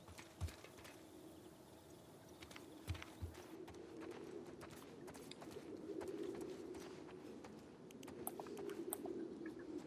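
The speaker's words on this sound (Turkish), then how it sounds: "Ha, böyle kuşlar ses çıkartıyormuş." Pigeons coo in the game The Last of Us Part II, soft and distant against a quiet ambient backdrop, with a few sharp clicks and thumps of movement scattered through.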